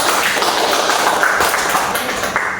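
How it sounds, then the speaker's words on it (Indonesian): Classroom of students clapping for a classmate's correct answer in a history lesson: loud, close, uneven bursts of hand claps over about two and a half seconds, with no speech over them. "kita berikan tepuk tangan"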